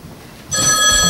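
An old-style telephone bell rings loudly and continuously, starting abruptly after a brief quiet moment of low room noise, with no talking over it.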